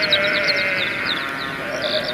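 A sheep bleats in a loud, drawn-out, wavering cry that fills the whole moment, close and alone with no voices.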